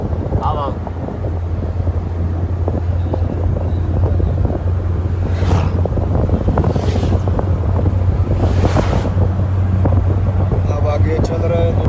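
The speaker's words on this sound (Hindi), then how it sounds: "यहाँ बहुत तेज़ हवा चल रही है" Strong wind roars and buffets the microphone throughout a road trip from Sibi to Jacobabad, a loud continuous rush with several stronger gusts and a low vehicle rumble underneath.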